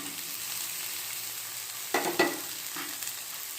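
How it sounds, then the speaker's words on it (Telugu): Onions and boiled vegetables fry in oil in a pan while being stirred until well roasted, a steady close sizzle broken by a few scraping stir strokes, with no voices. "బాగా రోస్ట్ వచ్చేదాకా కలపాలి."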